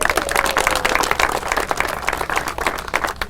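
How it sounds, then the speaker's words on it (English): A crowd applauds at Balloon Fiesta Park in Albuquerque during a city news conference, with many hands clapping steadily and densely throughout at a moderate, close distance. "give yourselves a round of applause for that"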